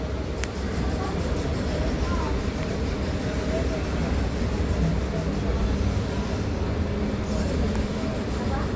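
At Washermanpet station, a Chennai local train bound for Chennai Beach gives a constant dense rumble of wheels and carriage noise, close and unbroken, with one sharp click near the start.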